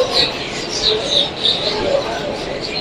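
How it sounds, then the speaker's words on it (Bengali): Birds call over and over with thin, high chirps at Adra Junction, a large railway junction, under a steady wash of station noise, with faint voices in the background. "এত পাখির ডাক এটা।"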